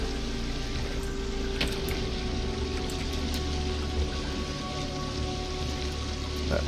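In the video game The Forest, a waterfall roars inside a cave as a steady, dense rushing wash with a constant low rumble. A few faint clicks and taps sit on top.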